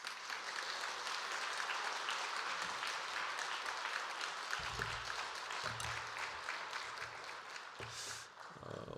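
A church congregation at a Sunday afternoon service claps to welcome the pastor, a faint, continuous wash of applause with a few low thumps partway through.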